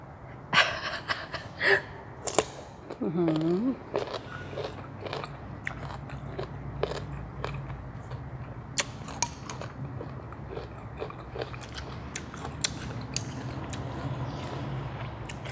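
Someone bites and chews crunchy sour mango dipped in sweet fish sauce, close up: loud crisp bites at first, then a long run of wet crunching and chewing with sharp gasping breaths and a brief vocal exclamation.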